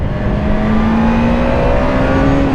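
Up close, a 2008 Suzuki GSX-R 750 sport bike engine runs loud and steady, its pitch climbing gently through the whole stretch, with no voices.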